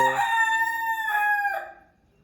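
A rooster in a bird enclosure beside a cow shelter crows loudly and close by, one long ringing cock-a-doodle-doo that fades into quiet.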